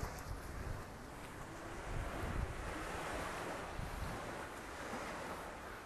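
Ocean surf and wind at Bangsaen beach in Chonburi, Thailand, near the Laem Taen rocks: a steady, loud wash of breaking waves with gusty wind buffeting the microphone throughout, no voices.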